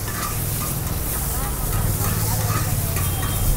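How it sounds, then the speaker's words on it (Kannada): Egg chilli frying with capsicum, onion and greens on a hot street-stall pan, a loud, steady sizzle with stirring throughout, close up, with faint voices in the background. "ಕ್ಯಾಪ್ಸಿಕಮ್ಮು, ಸೊಪ್ಪು ಇವೆಲ್ಲ ಮಾಡ್ಕೊಂಡು ಫ್ರೈ ಮಾಡ್ಕೋಬೇಕು."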